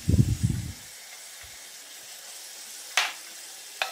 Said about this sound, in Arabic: هنقلبهم شوية على النار